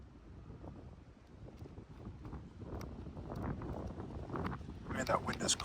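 Cold wind blows steadily outdoors around an old tiny house under roof repair, a broad rushing noise that swells and gusts louder toward the end, with a voice talking at times beneath it.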